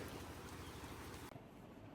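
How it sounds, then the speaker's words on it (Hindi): Heavy rain pours down outside a home in Budaun, a dense continuous hiss of water that stays loud and steady, with a slight shift in tone near the end and no talking. "बारिश इतनी हो रही है"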